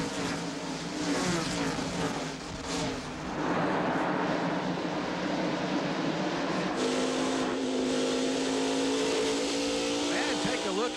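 NASCAR stock cars roar around Bristol's short oval at the green flag, a dense, continuous wash of engine noise with passing cars swelling and fading, loud and unbroken throughout.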